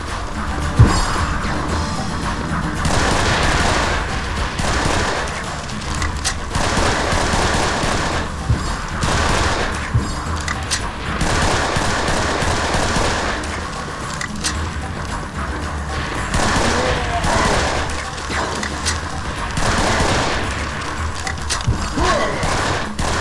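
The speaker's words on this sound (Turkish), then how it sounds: "Konuşurken silah sesi gidiyor." Dense, continuous bursts of rapid machine-gun fire and booming impacts from the game Serious Sam 3, loud and nearly unbroken throughout, with a faint voice now and then.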